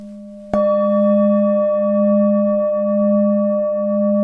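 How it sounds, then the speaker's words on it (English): A singing bowl is struck once, a sharp ring followed by a sustained, clear low tone and higher overtones that pulse and warble gently as they hang on alone. "When you strike a singing bowl, you'll usually hear that one of the tones is warbling more than the others."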